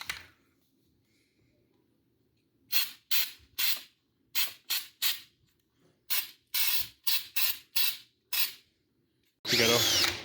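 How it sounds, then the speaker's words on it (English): A power drill runs in a quiet space in a string of short, separate bursts, roughly a dozen brief whirring pulses with pauses between them, ending with one longer, louder run. "You gotta hold the drill straight"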